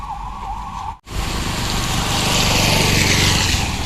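An ambulance siren wails loudly and close on a street, cuts out for a moment, then returns as a continuous, steady blare mixed with traffic noise.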